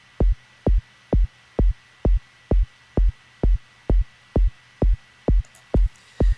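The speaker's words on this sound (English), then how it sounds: "So just by playing with this pitch envelope, we can actually create a nice kick sound." Punchy synthesized kick drum shaped with a pitch envelope in Ableton Live, about thirteen deep booming hits repeating at a steady, even tempo, loud and alone.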